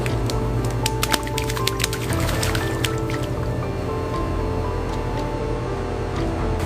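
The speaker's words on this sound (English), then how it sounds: "The slices must be washed immediately, or they will clump together in the fryer like a solid brick." Sweet potato slices get washed in water in an industrial chip production line, wet squishing, dripping and clicking splashes over a steady machinery rumble, with no voices.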